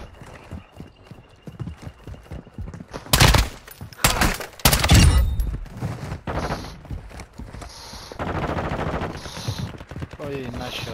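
Gunfire in a video game comes as several loud, sharp bursts of shots, some in rapid clusters, mixed with galloping hoofbeats and game noise.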